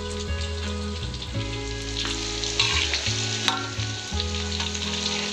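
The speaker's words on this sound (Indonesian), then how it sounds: "Oke lah, kita goreng sampai mateng." Tofu fries in a pan with a loud, steady sizzle and crackle, joined by the scrape of stirring throughout and a low hum underneath.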